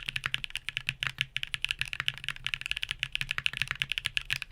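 Fast, steady typing on a keyboard fitted with Hall effect switches, deep and thocky, dense close keystrokes with no talking.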